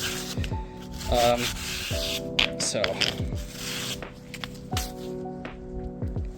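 A brush scrubs a dirt bike's O-ring chain in quick rhythmic strokes: close, gritty, rasping bursts repeating every second or so, with a steady faint tonal hum underneath.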